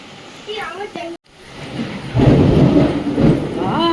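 A heavy monsoon thunderstorm with pouring rain, whose broad rumbling roar swells loudly in the second half, with brief voices speaking before it and at the end.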